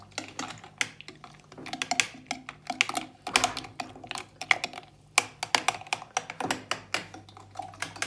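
A spoon stirs Turkish coffee in a small pot, giving quick irregular clinks and scrapes in bursts with short pauses, close and fairly quiet.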